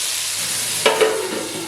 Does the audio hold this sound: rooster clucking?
no